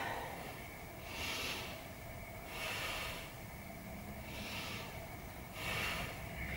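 Slow, deep breaths during a calm stretching routine, three long rising and falling airy inhales and exhales, close and steady with no talk.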